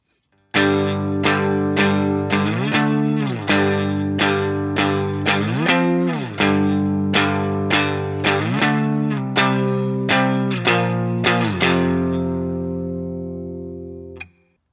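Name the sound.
electric guitar power chords, distorted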